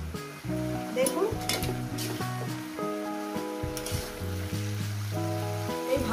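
Vegetables for a vegetarian chorchori fry in a pan, a continuous close sizzle broken by repeated stirring scrapes, with steady tonal sounds in the background.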